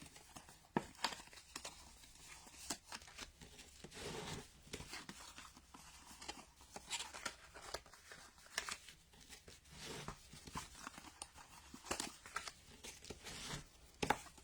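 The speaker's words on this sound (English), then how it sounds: "Now we can fold all our pieces over and give them a really good score." Cardstock pieces are folded over and scored for a Stampin' Up treat box card: a close, busy run of crisp papery creases, rubs and crinkles scraping along for the whole stretch, with no talk.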